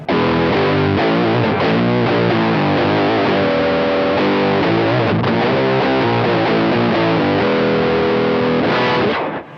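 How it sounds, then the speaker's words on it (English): A heavily distorted electric guitar, with treble turned down, played through a DigiTech Whammy pedal, chugs through a thick, low riff of single-note lines, loud and continuous with no voices. "pull the treble down, stick on some distortion, play some fat single string riff"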